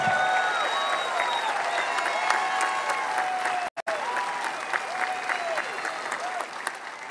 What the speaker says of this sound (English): let's keep that round of applause going for Dr. James Sweetland.